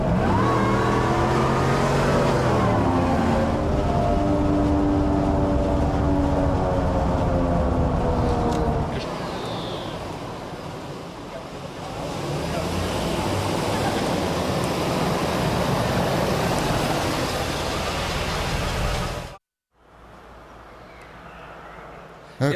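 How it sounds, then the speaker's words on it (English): Oversized mud-grabber off-road tyres on a Hummer H2 rolling along a road, a loud, dense roar with rising whine as the vehicle accelerates, steady for a long stretch before abruptly dropping away. "The sound these over-the-top mud-grabber off-road tyres makes on the road surface is fantastic."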